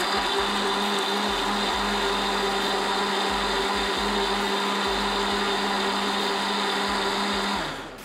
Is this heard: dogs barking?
no